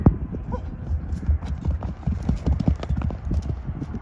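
A young horse moves along at a lively pace, its hooves clip-clopping in a quick, uneven rhythm close by. A low background murmur runs underneath.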